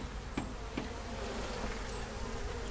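Honeybees buzzing during a hive removal, a soft, steady hum with a few brief louder bursts as bees fly close by, faint and without any talk.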